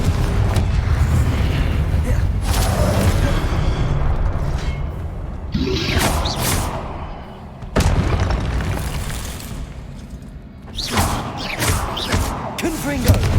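A Confringo blasting spell from the video game Hogwarts Legacy, heard as loud booming explosions that recur several times over continuous combat noise, with sharp bursts near the start, middle and end.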